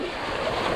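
Sea waves surge around a fishing boat out on the open water, a steady loud wash of surf with wind noise, heard alone for under a second.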